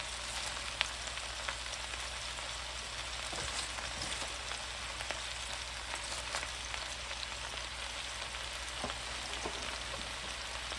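Cabbage fries in a pan with a steady, dense sizzle and crackle, close and continuous, sprinkled with small pops and no talking.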